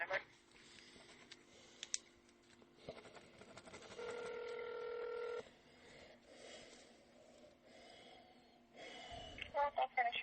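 A single telephone keypad tone, steady for about a second and a half, sounds while selecting an option in the Rockwall County Sheriff's Office phone menu. A recorded voice and faint line noise surround it.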